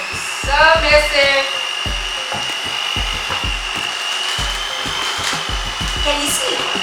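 An electric mixer beats lemon butter cookie dough in a home kitchen, giving a steady high motor whine throughout while voices talk over it.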